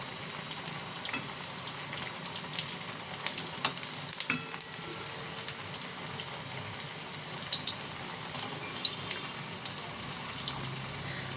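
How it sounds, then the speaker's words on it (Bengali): Potato fritters (aloo bora) frying gently on a low flame, a constant soft crackling sizzle with fine bubbling pops throughout. "এরকম হালকা হালকা ফ্লেমে ভেজে নেব, তাহলে এটা মচমচে হবে।"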